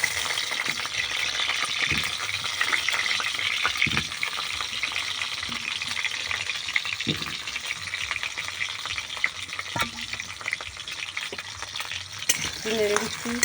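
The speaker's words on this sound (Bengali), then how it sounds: "কড়াইতে তেল দিয়ে দিচ্ছি আলুটা ভাজার জন্য।" Potato pieces fry in oil in a wok with a continuous sizzle, broken by scraping stirs and occasional louder knocks of the utensil against the pan, no talking.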